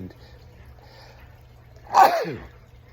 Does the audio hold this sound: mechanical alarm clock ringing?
no